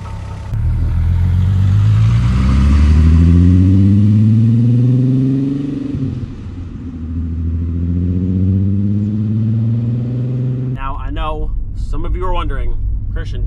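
Car engine revving hard as it pulls away past a roadside camera, rising through gears and fading slightly, then a voice speaks close at the end.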